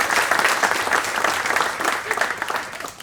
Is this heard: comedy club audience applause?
yes